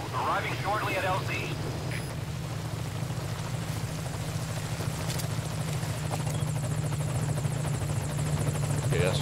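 Helicopter approaching in the video game Metal Gear Solid 5: Ground Zeroes, a loud steady rotor thump and engine drone running continuously, with a voice talking over it near the start.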